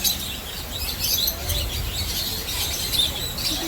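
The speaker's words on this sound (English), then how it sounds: "They're lovebirds." Lovebirds chirp and tweet in a busy aquarium or zoo setting at Ocean World, Dominican Republic, with steady high twittering over low background rumble, fairly close and continuous throughout.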